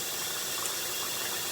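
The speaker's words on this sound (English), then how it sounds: "going to pour this acid into the other cup because I might need it" Acid is poured from one cup into another, giving a continuous, fairly loud rushing liquid wash with no talk over it.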